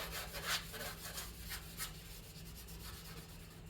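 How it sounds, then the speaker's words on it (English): Red Scotch-Brite pad scuffing a truck bed surface before liner is rolled on, a soft, steady rasping rub in repeated back-and-forth strokes, close and fairly quiet with a low hum beneath; no talking. "I'm just going to use a red Scotch-Brite and scuff up all of this stuff."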